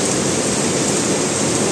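Steady rain falls in Bangalore, a dense even hiss with no breaks, close and moderately loud, with no voices over it.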